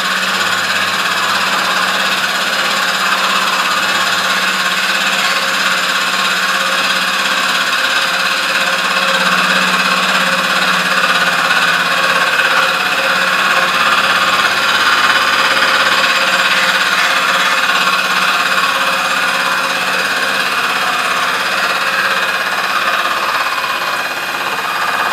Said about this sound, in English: Jason had mounted up the first driver casting in the CNC mill and the machine was facing the rear side of the casting.